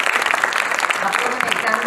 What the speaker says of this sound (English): So, one round of applause for you.